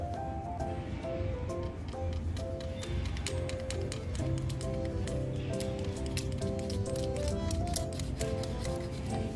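Drip irrigation pipe is cut with an ordinary paper cutter in a string of quick, close snipping and crunching clicks, rapid and irregular throughout.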